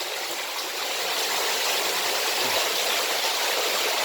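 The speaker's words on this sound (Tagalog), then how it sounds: "pwede kong buksan para may flow ng tubig para umikot, para mag-circulate yung tubig" Water flowing and circulating into a concrete tilapia pond, a steady, full rushing gush like a small stream or pipe outflow, close and continuous throughout.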